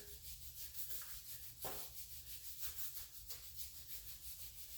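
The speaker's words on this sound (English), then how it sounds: "So we just have another black nylon brush here." A black nylon brush scrubs a cast aluminum engine part during degreasing, producing steady, close rhythmic rubbing strokes with a few louder swipes, heard alone without voices.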